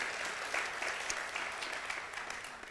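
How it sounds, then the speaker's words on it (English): An audience claps steadily after a talk on Khufu and the Great Pyramid, with dense applause that fades slightly toward the end and no talk over it. "another round of applause,"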